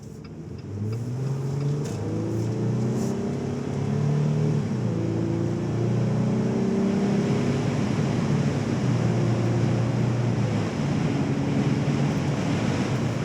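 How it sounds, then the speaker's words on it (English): A 2018 Jeep Wrangler Unlimited engine hums steadily as it accelerates, its low drone rising in pitch and dropping back as the transmission shifts gears, with road and wind noise beneath. "I'm going to be quiet so you can hear the engine and transmission shift"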